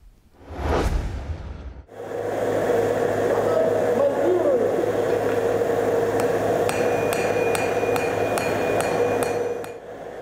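A blacksmith forges hot iron in a noisy forge shop, a loud continuous machine roar under the work and a run of sharp metallic hammer strikes ringing out in quick succession near the end, after a brief whooshing burst at the start.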